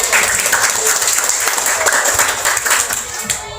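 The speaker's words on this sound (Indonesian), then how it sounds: "Beri tepuk tangan." A classroom audience gives a round of applause, a loud, continuous burst of many hands clapping together with faint voices underneath, easing slightly at the end.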